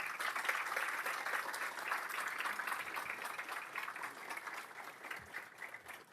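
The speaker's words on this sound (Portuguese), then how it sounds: "Peço uma salva de palmas" A hall audience at a Bahia development project launch claps in a steady, fairly faint and distant wash that continues throughout and thins a little toward the end.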